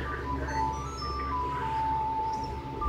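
An ocarina plays in the video game Zelda: Ocarina of Time, a soft melody of gently sustained notes over a low background hum, with no talk.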